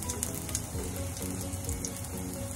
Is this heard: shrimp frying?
yes